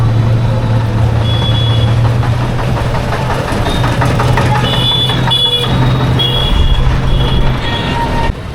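Tuk-tuk ride in Nepal, heading to Ramanand Chowk near Janakpur, with a loud, steady engine drone and low rumble throughout, plus faint high beeps and traffic noise around.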